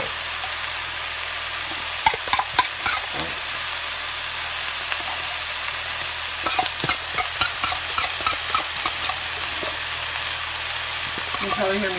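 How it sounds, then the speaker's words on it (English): Steady sizzling hiss with scattered scraping and clinking strokes of a utensil scraping pot roast out of a pan, close and continuous, no talking. "You can probably hear me scraping it out of the pan."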